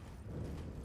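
Horse hooves clip-clop in Elden Ring, a brief, steady run of muffled hoofbeats over a dense low rumble.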